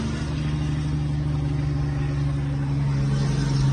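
A pickup truck engine droning steadily on a highway in heavy rain, a loud continuous low hum with a broad wash of road and rain noise and no talk.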